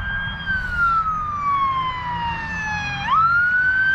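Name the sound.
police car siren passing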